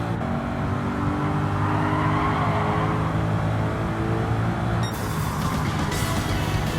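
A race car in Gran Turismo 7 runs flat out toward the finish line. Its engine drones in a steady, loud sustained tone across the whole stretch, shifting character near the end, with faint tire noise and no talking.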